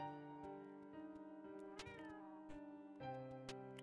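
Cat meowing in the video game Momodora, several short meows standing out over steady sustained game music, moderately loud and close.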